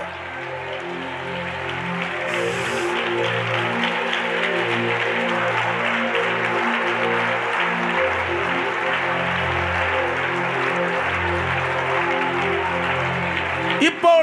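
Congregation at a church service praising and worshipping with sustained clapping and cheering, a dense roar of many voices and hands heard continuously from a short distance, with louder shouts rising near the end.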